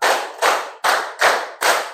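A group in a classroom claps hands together in steady unison, five sharp loud claps about every 0.4 seconds, close and clear with no talking.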